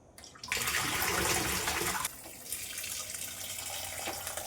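Water from a tap rushes loudly as a peeled vegetable is washed, then the flow drops to a softer, steady running stream that continues to the end, close by and with no talking.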